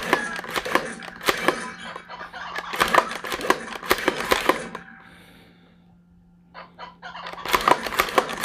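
Chicken clucks and squawks from the Buck Hunter arcade bonus game, several loud bursts, a quiet gap, then more clucking returning near the end.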